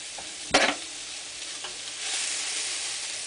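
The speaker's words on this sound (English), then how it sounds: "But put your steaks in your pan here." Ribeye steaks dropped into a hot pan, a sharp burst of sizzle followed by a quieter crackle, then a steady faint searing hiss.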